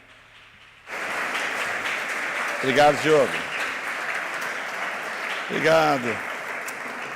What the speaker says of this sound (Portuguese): Você pode dar uma linda salva de palmas?